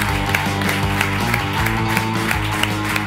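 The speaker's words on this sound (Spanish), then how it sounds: "Ahí le tenéis, un aplauso para él" An audience applauds steadily for a waiter brought on stage, with clapping sustained under loud music.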